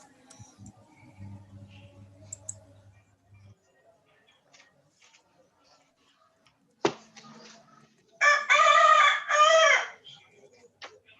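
A rooster crows loudly once near a chicken coop, a long clear call late in the scene, after scattered faint clucks and soft rustling noises in an otherwise quiet setting.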